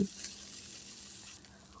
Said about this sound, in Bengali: এবার রসুনের কাঁচা গন্ধ চলে যাওয়া পর্যন্ত রসুনটাকেও ভেজে নিচ্ছি